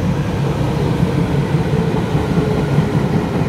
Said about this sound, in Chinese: 所拍摄的是有列车通过